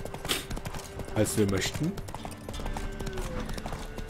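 Horse hooves clip-clopping in the video game The Witcher 3, a rhythmic trot of hoofbeats under someone speaking.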